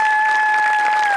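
Studio audience applause at a Marathi comedy show, a loud dense burst of clapping under a steady pair of sustained tones, lasting about a second.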